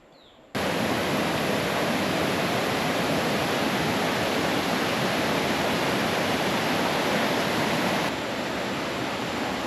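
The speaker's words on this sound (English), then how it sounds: "Here's our first view of the waterfall far in the distance." After a brief quiet moment, a dense, steady roar of a distant waterfall in Palau sets in and holds constant, loud and unbroken throughout.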